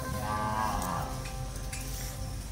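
A Brahman cow gives a single drawn-out low moo at a cattle show ground, loud and close, with no talk over it.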